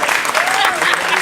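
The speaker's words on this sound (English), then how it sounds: "Round of applause for the sunset, ladies and gentlemen." Brief burst of guests clapping at a wedding reception during the toasts, with voices and a cheer audible over the applause.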